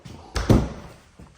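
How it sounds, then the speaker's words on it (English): A house door in a rental home kitchen swings shut with a firm thud and short slam, followed by a faint knock a moment later, close by and with no talking. "I'm gonna shut this door for now"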